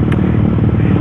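A Yamaha R15 motorcycle fitted with a custom Termignoni racing exhaust runs close by, giving a loud, steady, throbbing engine drone with a fast pulsing rhythm for one second.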